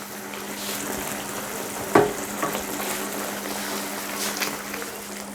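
Pasta sauce simmering in a pan over a low-medium flame, a soft continuous sizzle and bubbling with one sharp clink of a utensil near the middle and a few faint stirring sounds.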